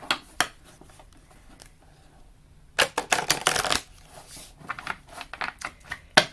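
A worn Psy Cards tarot deck with frayed edges is shuffled by hand. It gives loud, close riffling bursts, a brief one at the start and a long flurry in the middle, with quieter card taps between.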